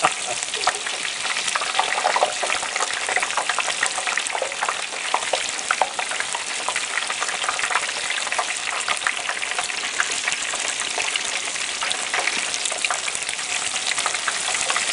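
Whole turkey deep frying in a pot of hot oil outdoors, with a loud, dense, continuous bubbling sizzle that stays steady throughout, and no clear talking.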